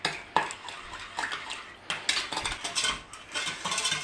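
A utensil stirs a sugar and water sauce in a bowl for a Chinese pepper steak, giving close, irregular clinks and scrapes against the bowl in quick bursts with brief pauses and no talk.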